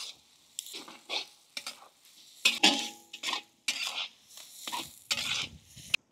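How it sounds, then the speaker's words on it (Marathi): Onion being sautéed and stirred in a pan with whole spices such as cloves, bay leaf, coriander seed and stone flower, for a village-style Maharashtrian fish curry gravy; soft sizzle under repeated scraping strokes of a spoon against the pan, close and moderately loud. "आपण आता व्यवस्थित परतून घेऊ 2 ते 3 मिनिटं कांदा"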